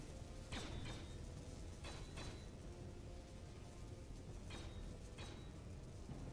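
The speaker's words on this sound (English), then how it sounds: "Let's weld up some of this." Welding in the video game Space Engineers, heard as a steady mechanical grinding and ratcheting drone with several sharp crackling bursts, close and fairly loud throughout.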